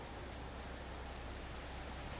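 Steady, loud rain and gusting wind from a fierce storm, an even broadband wash of downpour continuing without a break and heard close.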